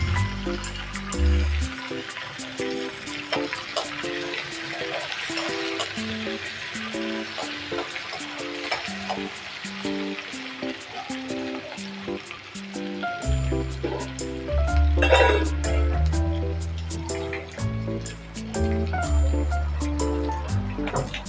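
Onion and green chillies fry in a pan for mango rice, giving a steady rain-like sizzle and crackle beneath a melodic background music track.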